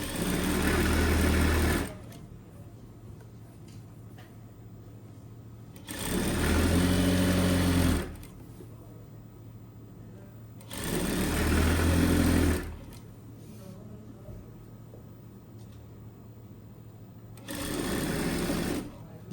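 A sewing machine stitches tracksuit fabric along a seam allowance in four loud bursts of a few seconds each, separated by quieter pauses.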